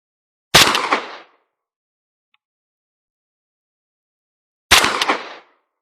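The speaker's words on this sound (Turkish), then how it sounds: "20 kalibre tüfeğimizle 24 gram tek kurşun atıyoruz." Two loud, sharp shots from a 20-gauge shotgun firing 24-gram slugs at a bulletproof plate 25 metres away, about four seconds apart, each with a short echoing tail and silence between.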